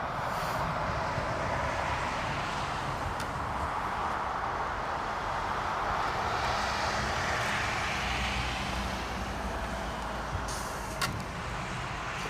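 A Boeing 757 airliner flies the downwind leg near London Heathrow Airport. A faint, steady, distant jet roar holds throughout with no other sounds.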